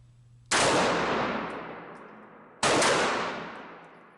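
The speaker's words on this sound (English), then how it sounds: "I'm going to back up and take a few shots with my Beretta Tomcat 32 just for comparison" Two loud gunshots from a Beretta Tomcat .32 pistol fired at an indoor range, each a sharp crack followed by a long ringing decay, spaced about two seconds apart.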